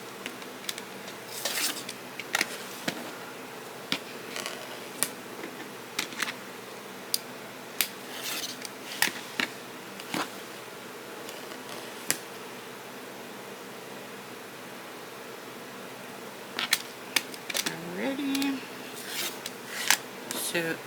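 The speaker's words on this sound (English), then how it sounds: "So you want to fussy cut your square out of your fabric." Fabric being cut into a square for a paper-pieced Halloween coaster sewing project gives off soft, scattered snips and scrapes, quiet and close by, with faint background noise.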